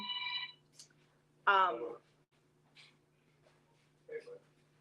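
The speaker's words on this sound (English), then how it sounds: "He's got a phone call" A telephone rings in a home during an informal talk, with a short burst of ringing tones at the start, a faint room hum throughout and a few soft noises between.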